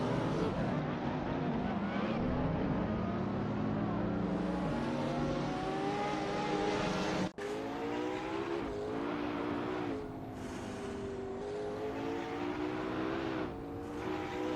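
Engines of AI-driven supercars racing at Road Atlanta in a video game, a continuous droning whine whose pitch shifts with gear changes and passing cars, steady and fairly loud throughout.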